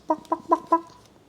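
Cursed chickens in the game Witchcraft cluck four times in a quick, even series, close and clear with no talk over them.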